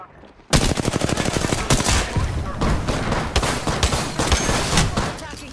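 Gunfire in a video game erupts after a brief quiet start into dense, loud bursts of rapid shots that rattle on almost without pause.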